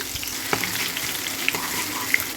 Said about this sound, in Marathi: तेल गरम करून घेतले आहे जिरे मौरी टाकलेत नंतर लसूण टाकला